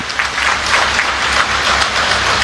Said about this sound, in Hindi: तालियां बजा करके उनका जोरदार स्वागत करिए।